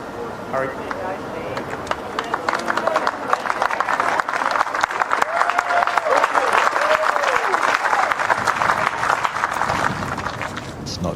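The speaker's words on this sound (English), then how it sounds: "Not just New Zealand fans applauding, the entire audience here" Spectators at the 2016 World Bowls Championship singles lawn bowls final applaud in a sustained, lively round of clapping, with a voice speaking over it.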